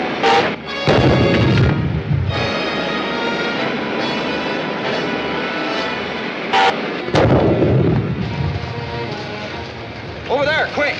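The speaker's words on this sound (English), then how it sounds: "Hand the ray gun and blast them." Ray gun blasts in a 1953 science-fiction serial crash out as loud, booming bursts over dramatic orchestral music, with one sharp blast near the start and another midway.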